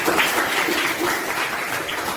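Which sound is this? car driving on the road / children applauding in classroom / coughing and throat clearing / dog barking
children applauding in classroom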